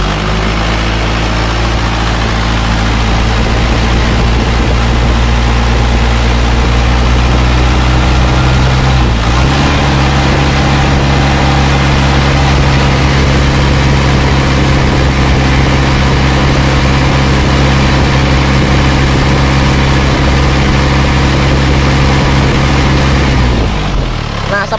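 An Isuzu Panther diesel engine fitted with new liners runs steadily and loudly up close with a low, even idle throb and a brief shift in pitch partway through.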